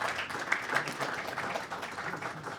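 A conference audience at an emergency-services industry session gives a round of applause for a speaker, a moderate, even spread of clapping with a few sharper claps near the start.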